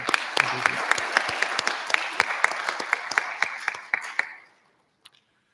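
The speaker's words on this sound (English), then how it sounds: "if I could hear a round of applause for the Flint Science Fair Board" An audience at a regional science and engineering fair applauds the fair board, a dense, steady round of clapping with sharp individual claps that stops abruptly, leaving near silence.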